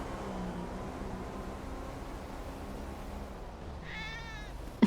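Cats in a roleplay video game meow in a short wavering cry near the end, faint over steady background noise, followed by a brief sharp click.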